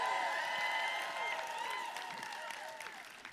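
A seminar audience claps at a business talk; the applause is moderately loud at first and gradually thins and fades.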